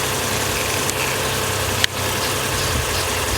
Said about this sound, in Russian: Вот, собственно говоря, мотор завелся.